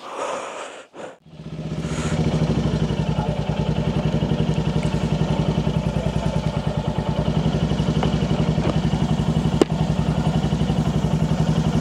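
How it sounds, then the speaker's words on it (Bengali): A motorcycle engine fires up after a brief cranking stutter, then runs steadily close by with an even, rapid chugging pulse and a faint click partway through. "বাইকও রেডি, স্টার্ট দিব আর বেরোয় যাবো"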